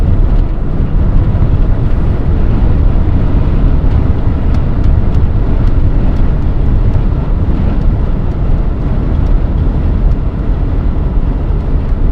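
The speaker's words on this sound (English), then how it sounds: "A lot of semi trucks right here," Semi trucks roar past on a highway near a toll booth during stormy Midwest weather, a loud continuous road rumble and tire drone from inside a moving vehicle, with a few faint clicks on top.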